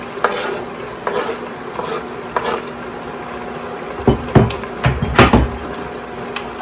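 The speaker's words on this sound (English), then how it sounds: "So I'm gonna put the dehydrated onions inside now." Dehydrated onions tipped into an Instant Pot while sauteing, giving a soft pour followed by a handful of close, loud scraping and clattering stir sounds over a faint sizzle, with no talking.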